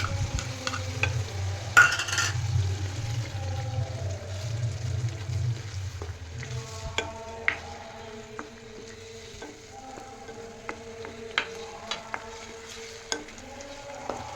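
Tomato gravy cooking in a pan over low heat after onion gravy, with a soft steady sizzle, an early stirring rumble and scattered light scrapes and clinks of a utensil.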